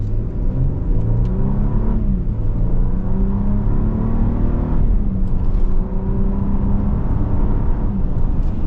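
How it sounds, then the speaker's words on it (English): A 2025 Infiniti QX80 full-size SUV with a twin-turbo V6 accelerates hard, its engine note loud and close and rising in pitch through the gears, with a brief dip at each shift and a steady whir underneath. "This twin turbo V6 that Infiniti has come out with to replace the V8 really gets the vehicle up to speed."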